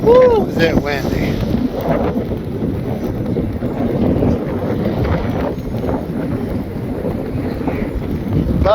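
Heavy wind roars and buffets a hat-mounted camera microphone continuously, loud and close, at an outdoor RC jet flight, with a voice briefly audible at the start.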